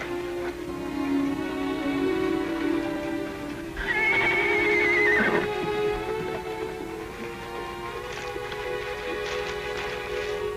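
A horse whinnies loudly near the middle, one long rising-and-falling neigh over a steady background hum, with no talking.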